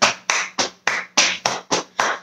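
Hands clap in a steady beat, eight sharp claps close by during a children's sing-along, with no voices over them.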